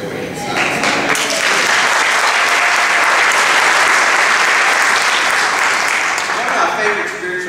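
Church congregation applauding loudly and continuously during a gospel Sunday service, a dense, steady wash of many hands clapping that fills the whole stretch.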